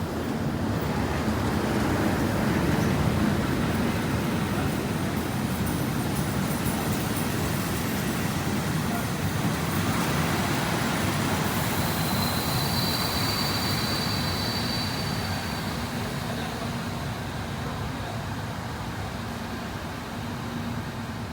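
A historic interwar-era passenger train rolls in at close range, its steady rumble and rail noise filling the scene with faint wheel squeal throughout, no talking.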